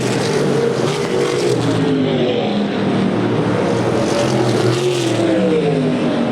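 USAC Silver Crown race cars battling side by side at the DuQuoin dirt mile during the Ted Horn 100, engines droning loud and continuous with rising and falling pitch as the pack passes.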